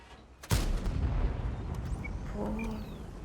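A tank shell strikes the underside of a Kpz. EK I tank in World of Tanks, heard as a sudden loud boom followed by a rumbling decay and faint metallic ringing, with no talk.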